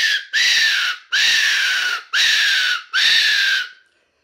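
A 3D-printed fox call in flame orange, blown by mouth, gives four long, loud, shrill screaming wails, each with a slight downward slide, separated by brief gaps.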